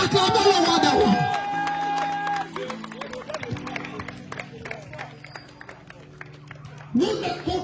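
A church congregation cheers and acclaims Jesus with loud bursts of crowd noise and clapping, strongest at the opening and again near the end, framing sustained musical tones and voices between.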